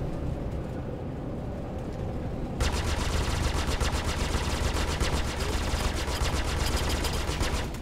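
Ship weapons firing in the space game Star Citizen during a fight with Crusader security, a loud rapid stream of repeating shots starting partway in over a constant engine rumble.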